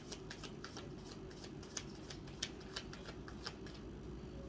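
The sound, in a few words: shuffling and searching through a tarot card deck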